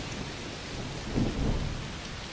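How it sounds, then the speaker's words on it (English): Steady rain hisses throughout, with a low, muffled rumble of thunder rising briefly in the middle, in the video game A Plague Tale: Requiem. "Oh, it's raining a lot. Yes. Must be a heat storm."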